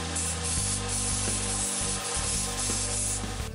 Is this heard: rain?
no